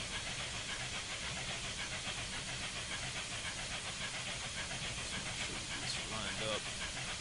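Simulated Union Pacific FEF-3 844 steam locomotive in Train Simulator 2015 working upgrade on Horseshoe Curve, a faint steady chuffing and hissing exhaust throughout, with a brief whistle-like tone near the end and someone talking over it.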